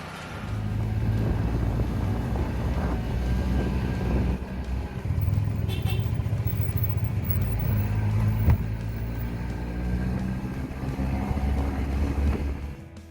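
An original engine in an old car in Cuba runs steadily, a loud, continuous low rumble that lasts the whole stretch with no break.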